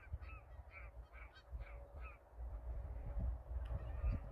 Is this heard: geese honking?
yes